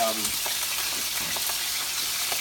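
Brussels sprouts frying in a hot pan alongside a steak dinner, a loud, close, continuous sizzle with faint stirring crackles and no talk.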